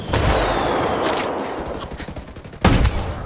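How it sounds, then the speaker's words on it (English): Mortar fire in the video game Ghost Recon Wildlands: a sustained blast of explosive rumble lasting several seconds, then a fresh loud impact near the end, with no talk over it. "Uh-oh, mortar, get out of that."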